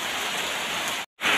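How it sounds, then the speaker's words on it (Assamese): Heavy rain pours steadily in a dense, continuous hiss, close and loud, broken by a brief dropout near the end before resuming. "ইমান ডাঙৰকৈ বৰষুণ দি আছে।"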